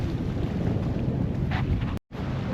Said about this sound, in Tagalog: Oh, medyo mahangin.